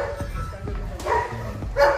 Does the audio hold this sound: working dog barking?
yes